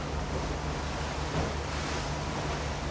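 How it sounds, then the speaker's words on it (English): Broadband roar of waves breaking at the entry of an ocean pass at Rangiroa, heard from a boat at slack tide, a steady continuous wash with no talk. "It's breaking waves at the entry."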